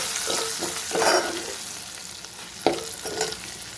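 Crushed ginger frying in a hot pan for a Telugu curry, stirred with a spoon, a steady close sizzle broken by a few scraping strokes against the pan, with no talking.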